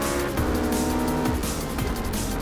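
A race car in the Project Cars racing game roars continuously at high revs, tires squealing through corners as the engine note shifts up and down, loud and close with no voices.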